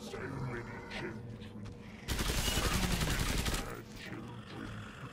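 Killing Floor 2 gunfire: a rapid automatic burst of closely spaced shots lasting about a second and a half, loud against quieter surroundings, with someone talking before and after.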